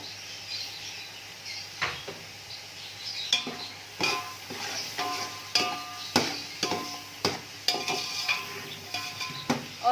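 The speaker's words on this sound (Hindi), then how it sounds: "अब मैं इसमें ये बॉईल किए हुए चने डाल दूंगी।" Boiled chickpeas go into a pan of cooking tomato masala and get stirred, with repeated sharp scrapes and clinks of a spoon against the pan over a soft sizzle, coming in a steady rhythm.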